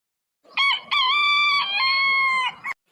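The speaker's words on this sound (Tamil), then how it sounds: "அதுக்குள்ள சேவல் கூவிட்டா" A rooster crows once at dawn in a village, loud and close, a long stretched call with a brief broken note at the end, against silence.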